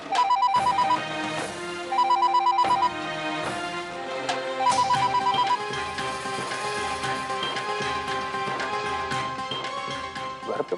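A household telephone rings on and on unanswered, its repeated electronic trills forming a steady pattern of bursts over a soft musical backdrop, with no one speaking.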